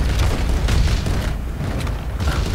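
A pirate ship cannon firing in Roblox Pirate Clash, heard as a heavy, continuous booming rumble that fills the whole moment with no clear gap.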